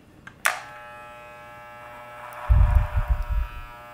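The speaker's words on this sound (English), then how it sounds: "nice and softly, you place the clipper over your comb" An electric hair clipper hums steadily as it passes over a comb, with a sharp click as it starts and a louder rustling burst of cutting near the end. No voices.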